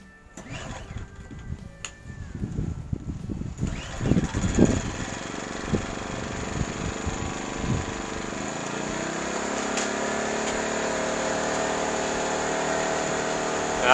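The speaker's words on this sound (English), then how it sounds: "Nice quiet generator." A TackLife portable gas generator starts with a few sputtering pulls and knocks, then settles into a steady, even drone with a faint high whine that runs unbroken to the end.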